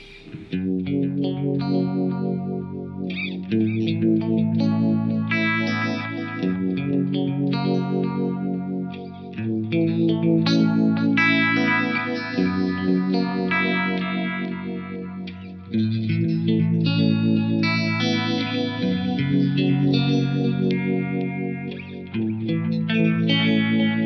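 An electric guitar runs through the vibe modulation effect of an Eventide H90 pedal, playing chorded phrases with a swirling, pulsing warble and some grit, steady and upfront with no talk.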